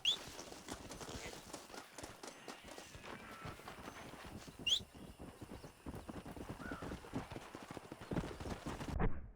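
Horse hooves clip-clopping at a steady trot in the video game Red Dead Redemption, a rhythmic run of close, sharp hoof strikes with a brief whinny-like call midway, and no talk over them.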